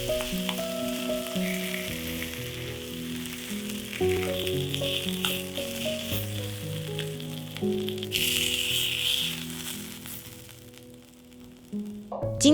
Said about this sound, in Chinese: 中火下锅之后，不要动它，大概3到4分钟。 这样呢，表皮就会煎得香香脆脆的。